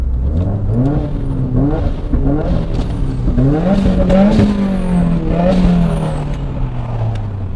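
A tuner car engine with a blow-off valve and single-exit exhaust revs up and down repeatedly, loud and close, with rising and falling pitch sweeps and a whooshing hiss between throttle blips.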